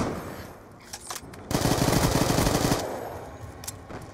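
Gunfire in a video game: a sustained burst of rapid automatic shots lasting just over a second, loud and close, with some quieter game sounds before and after.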